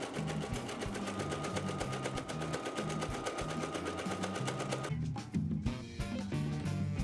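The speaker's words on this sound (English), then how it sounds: "these two new open edges, I'm casting at first with a zigzag stitch, both edges separately of course." A sewing machine runs a zigzag stitch along the open fabric edges of a throw pillow, a steady rapid mechanical whir that pauses briefly near the end and then resumes, close and loud, with no voices.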